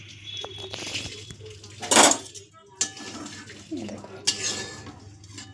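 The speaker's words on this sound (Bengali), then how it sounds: "মাছের ঝোলটা কড়াই থেকে নামাই নিয়ে মাছের ঝোল একটু নাড়াচাড়া দিই" A spoon stirs fish curry in a metal wok, giving a few sharp clanks and scrapes against the pan between soft rustling, while someone speaks briefly.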